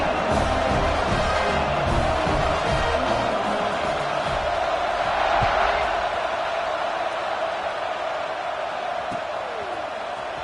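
An NCAA football stadium crowd roars as the teams line up for a kickoff, a dense, loud, sustained wall of cheering that eases slightly toward the end, with an announcer talking over it.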